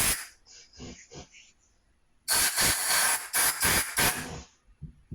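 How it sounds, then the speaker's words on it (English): Compressed air blasts into the passages of a C3 Corvette brake caliper during a rebuild: loud close hissing bursts, a few short puffs, then a longer run of strong blasts with brief gaps. "blowing clean compressed air into them to make sure they're clean"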